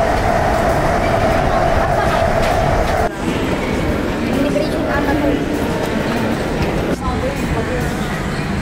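A train at Hong Kong Disneyland rumbles along steadily with rattling wheels and a brief high squeal, loud and close as if heard from on board.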